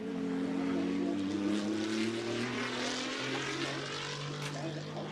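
GT2 race cars streaming through the Hockenheim stadium section during a Fanatec GT2 Europe race, a steady loud engine roar with shifting tones as cars pass nose to tail, under commentary.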